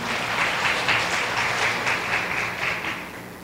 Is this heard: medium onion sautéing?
no